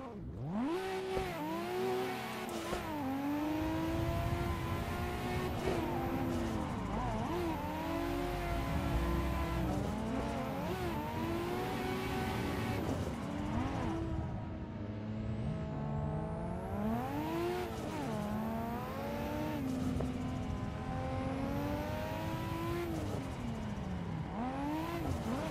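A car doing jump drifts at Ebisu in a racing video game played on a MOZA R9 wheel: the engine revs up and down repeatedly, with whining pitch sweeps and tire squeals, loud and continuous, with no talk.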